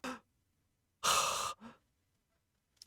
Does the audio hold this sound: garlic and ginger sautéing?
no